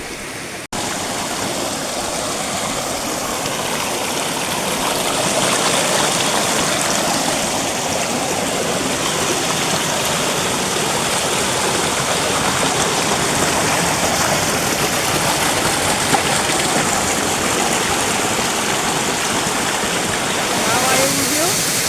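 Water rushes steadily from a natural spring spout at a temple site in Junagadh, a loud continuous splashing flow that fills the whole scene without pause.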